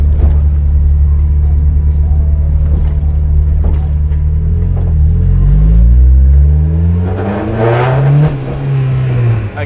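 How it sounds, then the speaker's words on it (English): A turbocharged 1.6 car making about 300 whp revs hard and then lets off, and its blow-off valve releases with a loud whooshing burst amid deep engine rumble and revving. No one speaks. "oh boy, the blow-off sounds wild."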